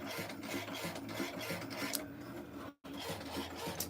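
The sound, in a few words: craft cutting machine cutting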